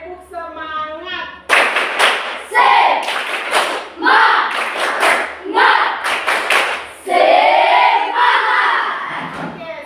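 A group of schoolchildren performs a rhythmic chanted spirit clap in a classroom. Bursts of clapping and shouting repeat in several loud phrases with short pauses between them, and a voice speaks briefly at the start.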